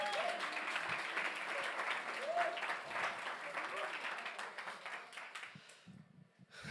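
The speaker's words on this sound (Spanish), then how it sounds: "Aplauda, aplauda." A church congregation claps during a sermon, the applause moderately quiet and steady before thinning out toward the end, with some voices mingling in.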